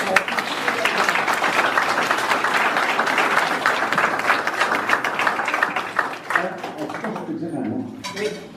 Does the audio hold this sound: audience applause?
yes